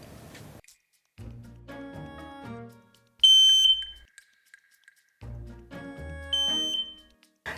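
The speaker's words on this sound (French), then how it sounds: "Dans le plafond de la maison se trouve alarme au feu." A ceiling-mounted smoke alarm in a house gives a short, loud electronic beep, standing alone amid quiet room noise and other household sounds.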